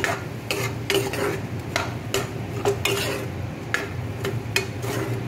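A spoon stirs a spiced taro-leaf and fish curry in a pan, with steady scraping and clinking strokes at an uneven rhythm over a soft sizzle, close and clear with no talk.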